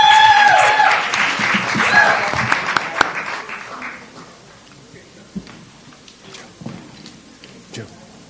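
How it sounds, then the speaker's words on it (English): A burst of audience applause with scattered cheers at a caregiving summit, loud at first then fading into a few isolated claps and quiet room noise. "Let's give them a round of applause."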